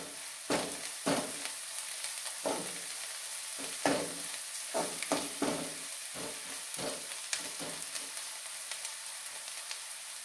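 Egg masala with chilli powder is stirred in a sizzling pan, with a steady frying hiss under repeated spoon scrapes and knocks against the pan.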